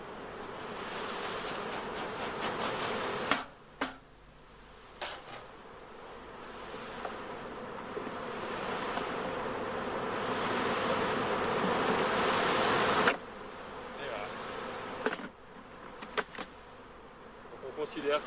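Dense, steady buzzing of many honeybees swarming close by during queen rearing, dropping briefly in intensity a few times before swelling again.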